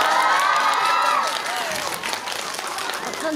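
A cinema crowd at a film's stage greeting for the movie's cast and director claps and cheers, dense continuous applause with a few high shouts, close and lively throughout.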